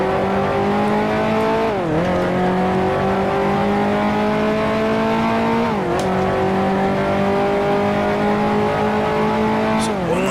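A 1955 Formula 1 race car engine in the Grand Prix Legends racing game howls loud and close, climbing steadily through the revs with sharp dips at each of three gear shifts.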